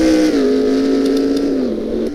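A race car engine roars loudly past in an F1 racing video game, its steady high whine sliding slightly down in pitch as it goes by, close and alone.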